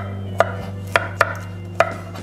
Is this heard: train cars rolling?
no